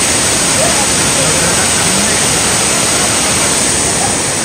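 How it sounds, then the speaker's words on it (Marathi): Waterfall near Sonalpada dam in Karjat, heard as a loud, steady broadband roar of rushing water filling the whole stretch without pause. "बघू शकता अशा प्रकारे हा धबधबा भेटला"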